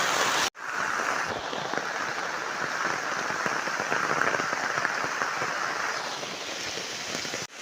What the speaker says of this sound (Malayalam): രാവിലെ അല്ല, രാത്രിയെ മഴയുണ്ട്.